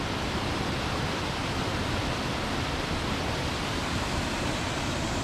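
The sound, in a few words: water flowing over a small old stone dam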